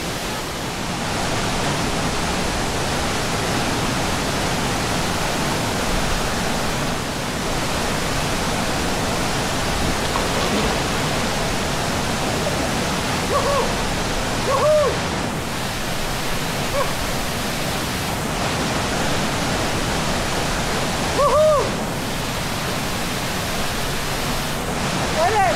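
River water rushes in a steady broadband wash at a swimming spot in Taman Alam Matahari, Mega Mendung, with people talking over it and a few brief voices and shouts.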